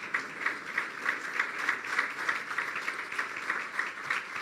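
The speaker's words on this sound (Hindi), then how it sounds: "तालियां बजाते रहो ताकि मैं पानी पीता रहा" A church congregation claps in steady unison, a rhythmic, evenly spaced beat of many hands repeating for several seconds at moderate loudness.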